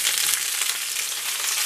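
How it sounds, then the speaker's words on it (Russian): Beans and garlic frying in a pan at home, a steady close, loud broadband sizzle with no talk throughout. "И вот так ее тоже обжариваем немного."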